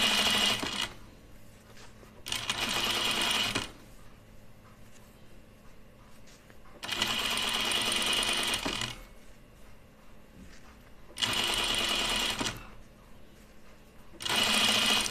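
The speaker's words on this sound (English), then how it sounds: "I'm just going to try my little method of doing a really narrow hem here." A sewing machine stitches a narrow hem on a lightweight blouse in four loud bursts of steady whirring, separated by quieter pauses with soft handling noise.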